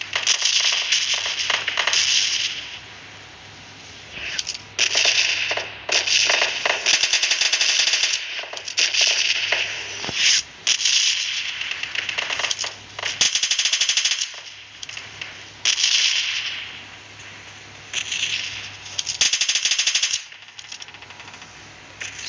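MP9 submachine gun fire in PUBG Mobile Lite, loud rapid automatic bursts repeating in clusters with brief pauses between them, sharp and close with no voices.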